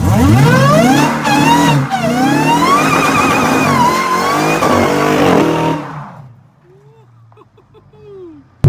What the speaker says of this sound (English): It will redline and bounce off the rev limiter, which is like perfect.